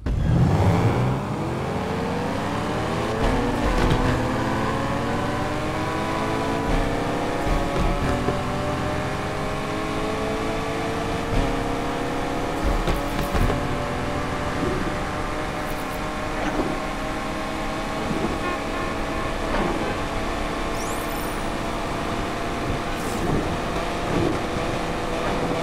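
Nissan 240Z fitted with a 2.5 liter flat four engine in Need for Speed Unbound, revving steadily upward through gears with rising harmonic sweeps, loud and continuous alone for the whole stretch.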